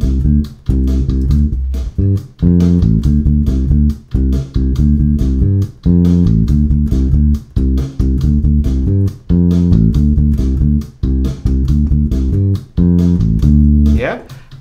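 An electric bass plays a repeating Motown-style line up to tempo, with steady plucked notes cycling in a groove; a voice is heard briefly at the very end.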